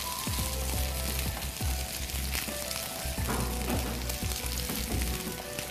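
Onions and garlic frying in a hot pan, a loud constant crackling sizzle close up with popping spatters throughout and no talk.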